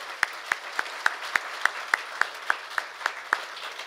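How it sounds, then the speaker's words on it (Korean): An audience at a university forum claps in an even, steady rhythm, with about fourteen sharp, evenly spaced claps that stay moderately quiet. "여러분들께서 큰 박수 한번"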